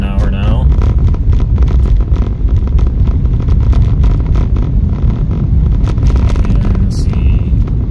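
A 2023 Ford Maverick Hybrid cruises at about 30 mph along a snowy road, producing a loud, constant rumble of road and tire noise mixed with wind buffeting throughout.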